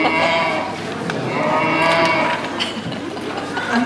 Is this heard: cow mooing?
yes